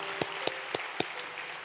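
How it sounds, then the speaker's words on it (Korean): A few isolated claps from a church congregation welcoming newly registered members at a Sunday service, five sharp evenly spaced hand claps over quiet room tone rather than a full round of applause. "박수로 뜨겁게 맞겠습니다"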